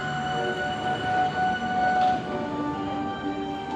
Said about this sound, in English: we got a test train going right now